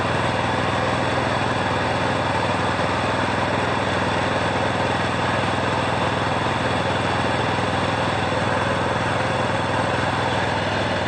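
A longtail boat engine runs steadily on floodwater while netting fish, a loud continuous droning buzz with no change in pace across the whole stretch and no voices.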